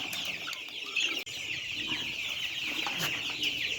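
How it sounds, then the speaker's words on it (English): Young meat chicks cluck and peep continuously nearby in a brooder, a busy chorus of soft calls with one brief sharp bump partway through. "these are my meat chickens in the brooder."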